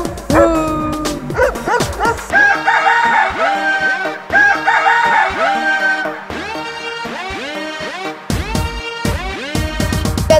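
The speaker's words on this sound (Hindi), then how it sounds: "कुत्ता बोले भू भू।" A dog barking in a string of loud, close bow-wows and yips, with whimpering notes between, set against a bright musical backing in a Hindi children's rhyme.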